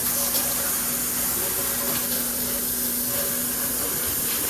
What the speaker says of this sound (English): Actually, we'll use the hose.